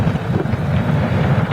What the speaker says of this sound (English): it is still windy